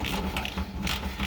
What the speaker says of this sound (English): Go ahead and put your 10mm. 10mm socket here.